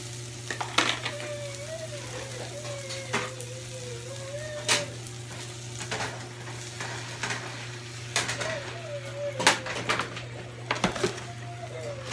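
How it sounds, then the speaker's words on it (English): Eggs fry in a pan with a steady, close sizzle throughout, broken by occasional utensil clicks and scrapes while faint bird calls sound in the background. "Now I'm going to put the eggs in there."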